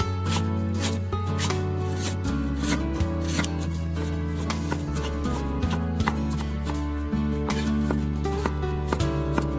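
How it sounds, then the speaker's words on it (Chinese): A kitchen knife chopping scallion and ginger slices on a board, a rapid string of crisp, sharp taps repeating steadily throughout over a backdrop of steady music. "再来切点葱姜片"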